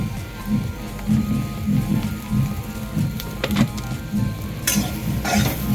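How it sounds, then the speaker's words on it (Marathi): Green chillies and spices roasting in a hot pan give a steady crackling sizzle, with a spoon now and then scraping and stirring and a few sharper clinks near the end. No one speaks. "त्यानंतर हे मसाले सर्व मिरचीला एकत्र व्यवस्थित भाजून घ्यायचे"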